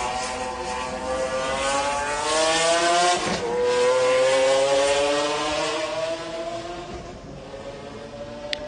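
Race cars at the 1995 24 Hours of Le Mans, including McLarens and a Courage Porsche, roar past in a long, loud engine drone that swells and fades with rising and falling pitch, no talk.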